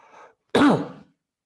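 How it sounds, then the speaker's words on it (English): A single short, rough cough and throat clearing from a presenter, faint and close, preceded by a softer breathy sound. "Get the COVID cough out of the way."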